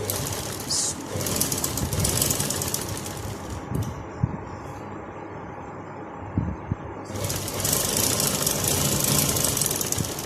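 Sewing machine stitching the leg hem of a shalwar, a steady continuous mechanical whir running throughout with brief lulls and a few knocks, fairly close and moderately loud.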